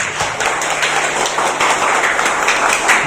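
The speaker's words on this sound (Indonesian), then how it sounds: "Tepuk tangan untuk kita semua." Applause at an elementary school report card and awards ceremony, with a room of parents and children clapping steadily, moderately loud throughout with no clear pauses.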